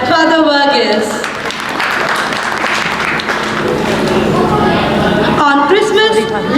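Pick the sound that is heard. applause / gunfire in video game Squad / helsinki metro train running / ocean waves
applause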